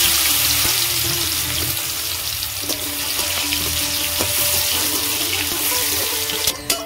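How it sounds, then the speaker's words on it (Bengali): Soaked cashews and raisins fry in oil and ghee in a kadai: a continuous close, bubbling, water-like sizzle with small crackles, ending in a sharper clink. "প্রথমে আমি কাজু কিশমিশ গুলো ভেজে নেব"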